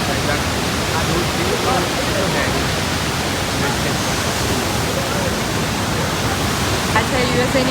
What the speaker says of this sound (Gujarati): અહીંયા આ ધોધ એટલું પાણી આવે છે ને આ ધોધમાં, તમે જોઈ શકો છો.